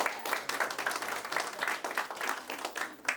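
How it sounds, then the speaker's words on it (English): An audience applauds at a county Republican House of Delegates debate, a quiet, distant patter of clapping with a rhythmic swell and fade across a few seconds. "Let's give ourselves a round of applause."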